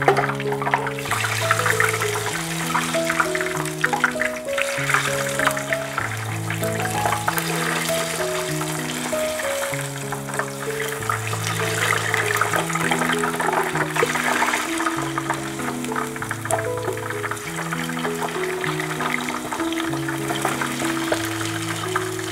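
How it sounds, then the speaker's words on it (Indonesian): Tempeh tapioca chip batter sizzles and crackles in hot oil in a frying pan, a steady, hissing spatter that continues throughout, with background music playing along. "sehingga waktu dimasukkan minyaknya akan langsung gemericik"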